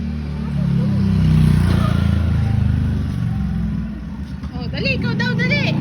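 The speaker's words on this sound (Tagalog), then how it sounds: "May motor sa likod mo." A motorcycle passes behind on a street, its engine droning steadily through the clip, with a child's and adults' voices talking and chattering over it close by.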